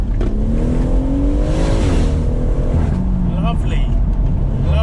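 BMW M140i fitted with a Quaife differential accelerating on a public road, a loud sustained engine note rising in pitch and then easing off, heard from inside the car.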